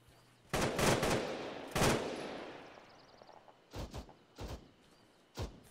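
Bursts of gunfire in a video game set in Afghanistan at night: two long rattling volleys early on, then three shorter sharp bursts after a quieter stretch, loud and close with no talk.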